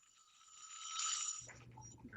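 A hand bell rung at a Rotary club meeting gives a faint, thin ringing tone that swells and fades within about a second, followed by quiet room noise.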